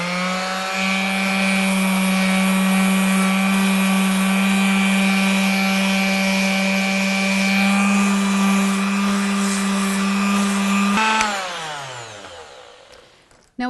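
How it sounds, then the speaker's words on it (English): A steady, loud electric sander whirs with a constant motor tone for about eleven seconds, then switches off and spins down. "when you're sanding"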